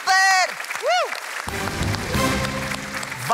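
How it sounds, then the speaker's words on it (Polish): Audience applause and cheering at a Polish televised brain competition show, starting after bright synthesized musical tones and continuing as a steady crowd clatter. "Brawa, brawa, brawa Kuba."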